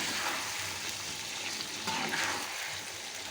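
Meat cooking in a pot with a little water being stirred, a steady close sizzle and bubbling with scraping and stirring movement throughout, no talk.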